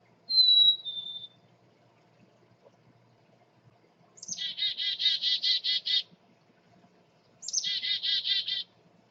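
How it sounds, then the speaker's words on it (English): A black-capped chickadee in a backyard: a brief clear whistled note, then two buzzy chattering bursts of repeated notes, fairly close and distinct against a quiet background. "The black-capped chickadee got its name from the song it sings."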